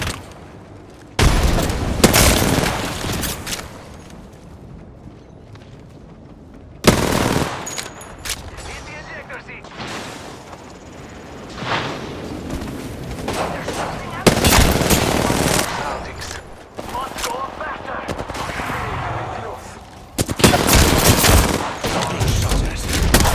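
Bursts of machine-gun fire and gunshots hit the player in a video game, loud, repeated volleys cutting in and out over about twenty seconds, with impacts and booms mixed into dense game noise.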